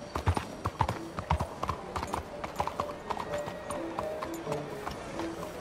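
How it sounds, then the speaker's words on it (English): Horse hooves clip-clop in an uneven trotting rhythm in Red Dead Redemption, fairly quiet, with a brief snort or whinny and faint voices in the background. "That sure is a beautiful horse."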